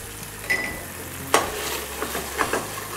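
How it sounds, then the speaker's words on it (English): Butter melting and sizzling in a hot pan, a continuous hiss broken by a few sharp clinks of a utensil against the pan, close and moderately loud. "अभी इसमें थोड़ा बटर डालिए।"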